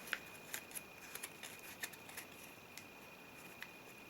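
Crisp paper creases and rustles from a dollar bill being folded into an origami TIE Fighter, a series of soft, brief crinkles and snaps at close range, fairly quiet, with no talking.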